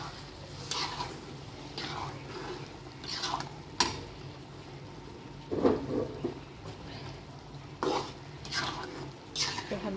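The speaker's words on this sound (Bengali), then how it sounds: "একটু নেড়ে চেড়ে দিচ্ছি।" A spoon stirring dal in a cooking pot, with soft scraping and wet squishing strokes at irregular intervals over a low steady background hum, fairly close.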